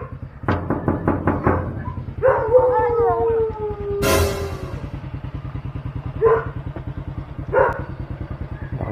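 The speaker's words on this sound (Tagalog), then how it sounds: "Oh, aso pa yata." A dog at a house howls with a long wavering cry, set between short sharp barks, close by over a steady motorcycle engine idling throughout, with a few brief voices calling out.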